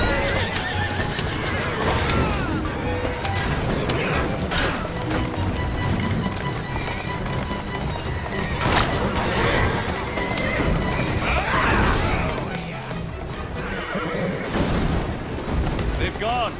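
Horse neighing and clip-clopping in the video game Assassin's Creed Syndicate, with rapid hoofbeats and repeated whinnies over a busy, loud street scene.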